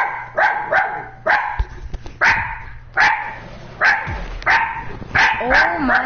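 A dog in a video game barks repeatedly in a quick, uneven series of loud, close barks, with voices talking over some of them.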